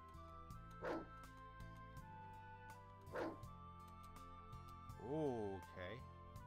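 A dog in a video game gives short yips and a whimpering whine, three brief calls spaced a couple of seconds apart over steady background music.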